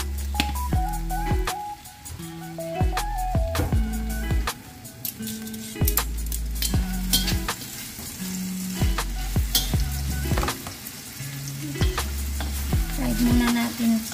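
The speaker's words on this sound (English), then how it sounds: "Fry muna natin ito." Beef steak fries in a little oil with a steady, close sizzle. Stepped electronic beeping tones run over it throughout, and there is no talking.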